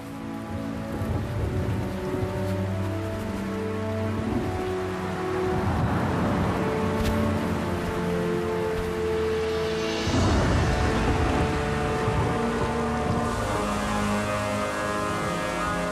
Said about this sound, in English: a mountain thunderstorm is extremely dangerous